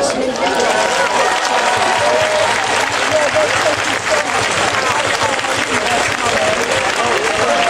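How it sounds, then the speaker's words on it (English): A large outdoor crowd at an animal rights march in London applauds in tribute to Marion. The applause is loud and sustained, a continuous dense roar of claps with scattered voices and cheers mixed in. "I'd like us all now to give her a round of applause, please."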